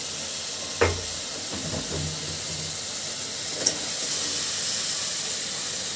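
Onion greens dropped into spice paste frying in oil, a sharp hiss burst followed by a steady, close sizzle with a few stirring knocks, no one speaking.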